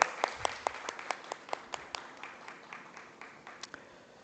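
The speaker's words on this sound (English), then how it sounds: "Please give a big round of applause to our moderator." Applause for the moderator at a finance leadership conclave panel: a modest crowd claps in distinct, fairly even strokes, faint and somewhat distant, thinning out over a few seconds.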